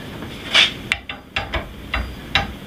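A wrench works loose the nut on a steel trailer ball, giving about seven sharp metallic clanks and clicks at uneven intervals, close by and moderately loud.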